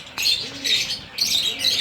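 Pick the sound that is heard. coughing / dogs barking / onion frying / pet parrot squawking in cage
pet parrot squawking in cage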